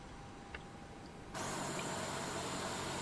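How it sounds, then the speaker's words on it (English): A jet engine of an Airbus A330 airliner in a flight simulator spools up abruptly into a loud, steady broadband roar after a quieter APU hum, sustained and close. "Starting engine number 2."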